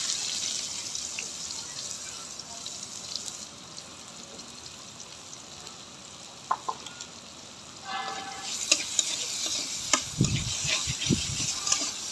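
Onions frying in a pan beside fish for a Bengali rui fish dish give a soft, steady sizzle, with a few sharper clinks and stirring scrapes near the end.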